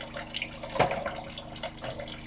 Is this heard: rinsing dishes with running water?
yes